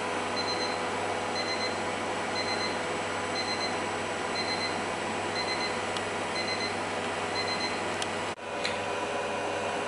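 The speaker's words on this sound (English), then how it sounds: "So that's 30 minutes, the beeper's going off." The timer on a Tefal Actifry air fryer goes off with short, evenly spaced pairs of high beeps over the machine's steady running hum, followed by a brief click near the end.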